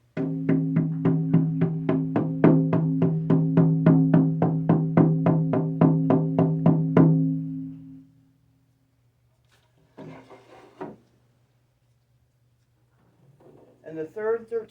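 A deer hide frame drum, its skin marked by the wound where the animal was shot, is struck in a steady run of about twenty resonant low beats that ring out and fade, followed by brief talk.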